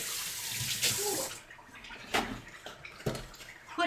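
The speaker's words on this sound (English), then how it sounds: "I now again wash my hands" Running tap water splashes over hands being washed at a kitchen sink while Italian meatballs are made, a steady close wash with a few louder splashes and no talk.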